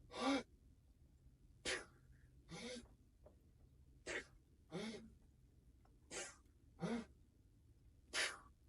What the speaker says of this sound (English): before I press, I'm going to take a big deep breath